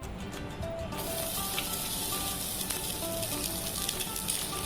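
Food frying in a pan makes a steady, even sizzle close up, with no talking over it.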